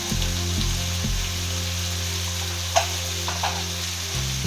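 A spicy chicken gravy fry sizzles steadily in a pan while a spoon stirs it, with a few sharp scrapes and clinks over a constant low hum.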